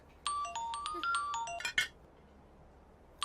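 Phone ringtone plays a short electronic melody of bright stepped tones, rising and falling for about a second and a half, then stops, with a brief restart at the very end; quiet room otherwise.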